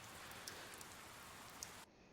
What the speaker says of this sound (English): this one's got some rain sound effect